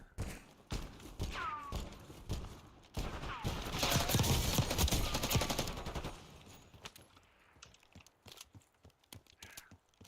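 Video game gunfire aimed at the player, rapid bursts of automatic shots and thumps swelling into a dense loud barrage in the middle, then thinning into scattered sporadic shots toward the end.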